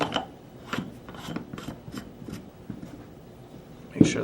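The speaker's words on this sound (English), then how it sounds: "And we'll go ahead and reinstall our barrel." A barrel threaded back onto a Tippmann Carver One paintball marker: a run of short, rhythmic scraping and ratcheting clicks from close by, ending in one sharper click.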